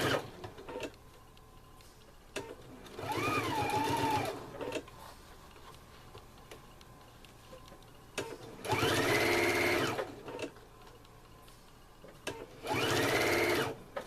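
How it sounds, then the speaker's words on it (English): Home sewing machine back stitching across the thick end of bias tape on a clothespin bag, three loud bursts of running stitches with short pauses between, close and alone. "I'm going to back stitch over the end of the bias tape"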